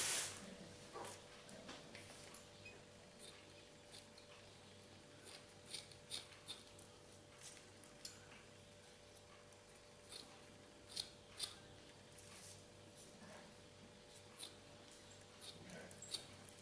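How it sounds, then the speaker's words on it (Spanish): Small scissors snip through excess tulle while a bridal floral headpiece is made, giving several faint, quick clicks scattered over a quiet room background. "Ahora cogemos la tijerita y cortamos el tul sobrante."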